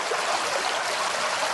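Creek water streams over stones in a steady, close, continuous wash and gurgle with no break, without any voices.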